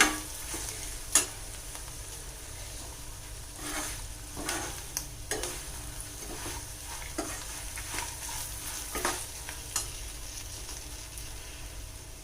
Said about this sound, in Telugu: ఈ చింతపండుకి పెట్టిన పోపు బాగా ఫ్రై అయిందండి